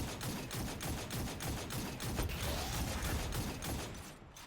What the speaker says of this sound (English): Why does it take so many shots with the scout rifle?